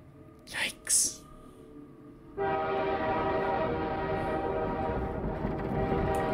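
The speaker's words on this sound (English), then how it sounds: "And we're on the train." Train ride in the video game Half-Life 2 Episode 1: a steady, loud rumble of the moving train starts abruptly and continues, after a couple of brief faint sounds at the start.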